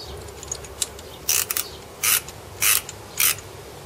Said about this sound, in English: Ratchet, sorry.